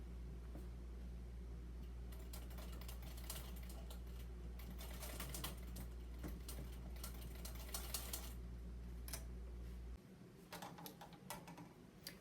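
A treadle sewing machine stitches around a pocket, a steady rapid mechanical clatter close by with ticking needle strokes; the low running hum drops away near the end while lighter clicks continue.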